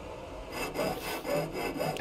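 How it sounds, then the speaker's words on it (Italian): A saw cutting scrap metal, aluminium salvage in Ship Graveyard Simulator: rough back-and-forth rasping strokes, about three in two seconds, close and fairly loud. "la sega, vai"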